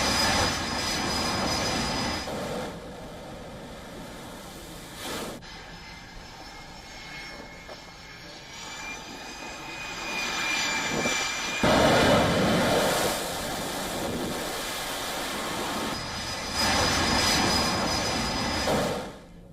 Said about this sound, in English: fighter jets were shown taking off from an unidentified location